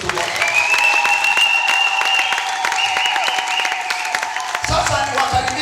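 Audience applause at a church album launch, a loud, steady wash of clapping that lasts the whole stretch, with voices and shouts mixed in over it.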